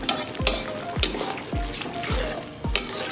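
Chicken sizzles in masala gravy over a high flame while a utensil stirs and scrapes the pan in regular sweeps about every half second, close and steady.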